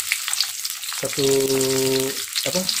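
Ingredients sizzle and fry in a pan with lime leaves and tamarind for beef dendeng, a steady crackling hiss broken by a couple of louder stirring scrapes and clinks; no one speaks.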